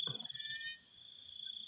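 Toads croaking outdoors at night, a low throaty call at the start over a steady high insect trill that runs through the whole stretch, with faint pulsing calls continuing underneath.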